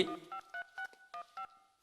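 A telephone number is dialed in a Tamil movie scene: six crisp touch-tone beeps of equal length follow each other at an even pace, close and clear, after a brief rustle at the start.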